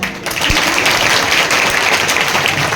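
Children's applause at a school Teachers' Day celebration in an assembly, continuous dense clapping from a large group that holds steady at full loudness throughout, with no talk over it.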